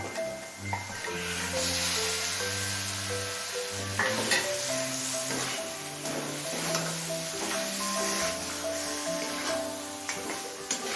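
Fried katla fish head dropped into oil-separated spice masala for a cabbage dish, a steady loud sizzle and stirring hiss running under background music.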